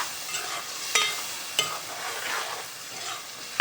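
Stuffed karela is stirred in a pan, soft sizzling punctuated by three or four sharp clicks of a spoon scraping and tapping against the metal.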